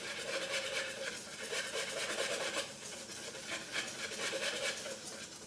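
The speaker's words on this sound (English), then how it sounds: "And just whisk it up a little bit." A whisk stirs flour and a pinch of salt in a bowl for sweet crepe batter, giving a steady, close scraping and rubbing swish with a quick repeating rhythm throughout.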